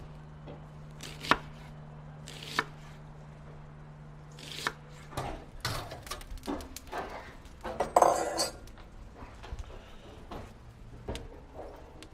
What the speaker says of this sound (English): So I'm going to go ahead and cut our onion right now.